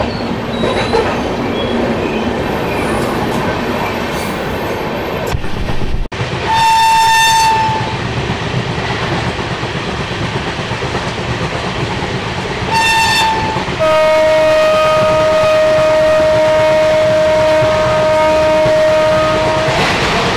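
A train, the Kumbha Express from Howrah to Dehradun, pulls out with its horn blowing in two short bursts and then one long steady blast, over constant rumbling wheels and rail noise, loud and close.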